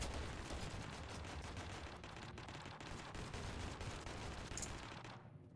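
Rapid automatic AK rifle fire in Totally Accurate Battlegrounds, a dense, sustained burst of gunshots running loud and close for several seconds before cutting off abruptly.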